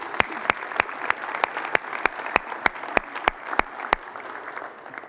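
At a winter sports awards event, a crowd applauds the girls basketball team: a sustained wash of clapping with a steady rhythm of loud, sharp claps close by, fading near the end.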